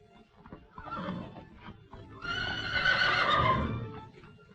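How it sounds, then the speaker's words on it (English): A horse neighs loudly in a long, shrill whinny, with softer snorting and movement before it; no one speaks. "Best horse I ever owned."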